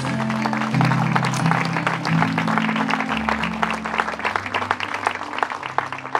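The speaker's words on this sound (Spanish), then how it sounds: "dale fuerte palmas" A church congregation claps hands hard during a sermon, sustained dense clapping over steady low organ or keyboard tones, with the clapping growing choppier toward the end.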